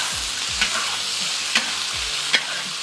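Chilies and ginger stir-fried hard in a wok for a chili-and-meat dish, a loud continuous sizzle close by, broken by several sharp clanks and scrapes of the spatula against the metal.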